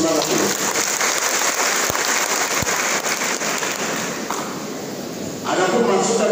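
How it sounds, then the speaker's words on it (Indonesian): An audience of contract workers claps to cheer on the Alor regent at a farewell meeting, a loud, continuous rain-like patter of hands with a couple of sharp knocks and a brief swell near the end. "Kita tepuk tangan untuk memberikan semangat ini."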